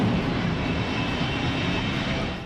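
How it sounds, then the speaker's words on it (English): Steady, loud roar of a jet-powered full-size truck running three Westinghouse J34-48 jet engines, a continuous broadband blast holding level for the whole stretch with no talking. "it's a freaking jet truck"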